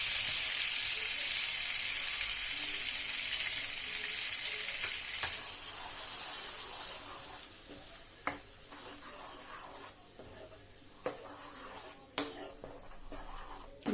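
Onion paste and green chillies fry in a pan for a chole curry, a loud bright sizzle that gradually softens, with a few sharp clicks of a spoon stirring against the pan.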